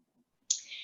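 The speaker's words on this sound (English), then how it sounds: "She heads over to the scissors and retrieves a pair to cut off a piece of ribbon." A single pair of scissors snips through a piece of ribbon once, giving a short, crisp click that fades over a fraction of a second. It is close and clear after a moment of near silence, with no talking.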